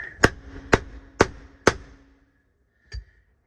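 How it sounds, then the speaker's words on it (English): Four sharp metallic hammer taps on a truck steering wheel being replaced, in a steady rhythm, followed after a short pause by one softer, duller tap; no voices. "Tightened up again, so I'll tap it again with the hammer."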